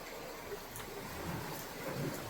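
Steady, soft rain patters outside a villa in Cap Cana during a thunderstorm, a continuous even hiss with faint low rumbles beneath and no speech.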